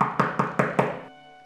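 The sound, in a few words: knocking on a door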